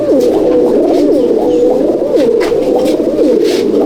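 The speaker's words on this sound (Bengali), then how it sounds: "এই হচ্ছে পায়রা" A loft full of Andhra and Madrasi pigeons keeps up a dense, close chorus of warbling coos, rolling and overlapping without pause and with nobody talking.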